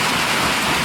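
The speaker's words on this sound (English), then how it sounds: "it is thundering, lightning, and raining." Steady, dense rain falls during a Minnesota thunderstorm in December, a continuous broadband hiss with no distinct thunder clap in this short stretch.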